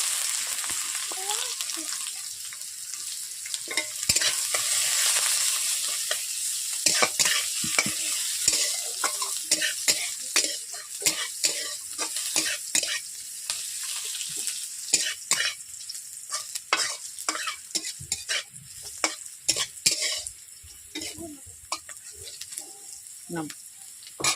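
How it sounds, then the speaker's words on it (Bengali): Chopped onion and panch phoron frying with dried red chillies in oil for a kochu shak ghanta, a steady bright sizzle with frequent scraping stirs of a spatula against the pan throughout. "দিয়ে দিচ্ছি 5 ফোড়ন, এরপর দিয়ে দিচ্ছি পেঁয়াজ কুচো"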